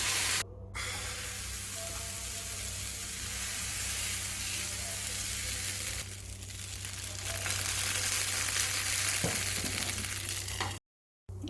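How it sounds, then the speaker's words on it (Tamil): Dosa batter made from leftover idli batter fries on a hot pan with a steady, close sizzle and crackling hiss throughout, briefly interrupted near the end. "சேர்த்த மாவை சுட்டு எடுத்துக்கலாம்."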